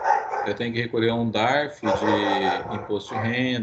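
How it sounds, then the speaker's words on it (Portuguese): A dog barks intermittently somewhere in the background of an online class call, mostly buried under a man's steady Portuguese speech. "tem um cachorro latindo"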